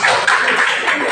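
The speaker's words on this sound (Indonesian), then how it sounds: "Tepuk tangan untuk kelompok 2 ya." A classroom group claps for a presentation group in a short, dense burst of close, loud, rapid hand clapping.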